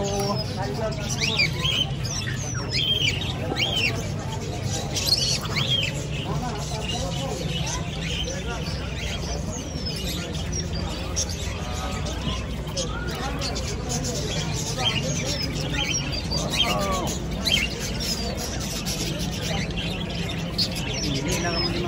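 Parrots, a cockatoo, lovebirds and mynas chirp and squawk continuously at a bird souq in Souq Waqif, Doha, under steady crowd chatter and a person talking nearby.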